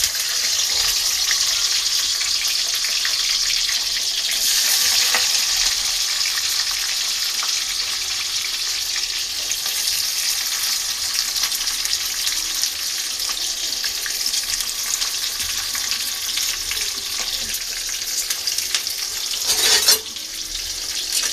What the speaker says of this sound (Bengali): প্রথমে আমি তেল গরম করেছি, এখন আমি পেঁয়াজ দিয়ে দেবো।